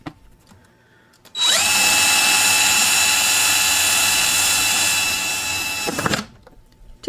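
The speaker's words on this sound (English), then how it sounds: "I need to drill some holes here." A power drill runs through a plant pot in one continuous burst of nearly five seconds, a loud steady high-pitched whine that sags slightly near the end before stopping, with quiet handling noise on either side.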